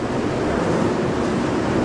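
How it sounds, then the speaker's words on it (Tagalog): Steady rain drums on the roof of a house still under construction, a dense, constant hiss heard from inside the unfinished interior with no voices. "Rinig na rinig yung ulan."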